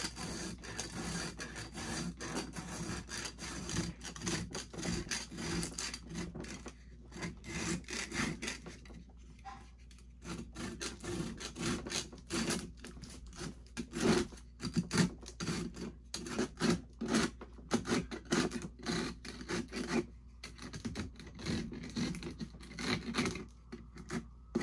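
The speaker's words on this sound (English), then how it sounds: "It's a Stanley rasp." A Stanley rasp files down the hard Plasti-Paste outer shell of a mask in quick, scratchy, irregular strokes, close up and steady, with short pauses between bursts and no talking.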